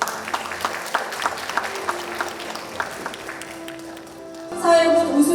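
An audience applauds at a Korean corporate ESG management award ceremony, a steady wash of clapping throughout while a voice speaks over it, swelling louder near the end.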